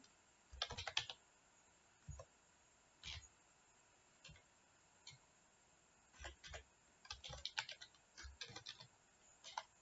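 Computer keyboard typing in irregular bursts of quick clicks, close and fairly quiet, with pauses between flurries over a faint steady background hiss.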